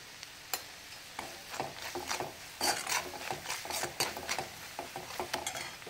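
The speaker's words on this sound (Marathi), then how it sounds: "आणि आता अर्धा मिनिट हे छान परतूया तेलात।" Onion is sautéed in oil with a pinch of turmeric. A soft sizzle runs under irregular scraping and stirring strokes of a utensil against the pan, close and steady, with no voices.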